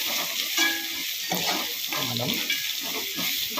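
Ginger garlic paste fries in a little oil, making a loud, close, continuous sizzle with stirring, and a voice speaks briefly over it.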